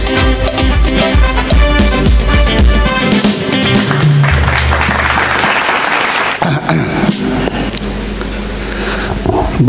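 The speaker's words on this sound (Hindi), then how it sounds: "जोरदार तालियों से स्वागत कीजिए" Audience applauding at the Asansol Laughter Challenge comedy show, loud clapping mixed with music and noise from the stage sound system, dense and continuous with a brief dip partway through.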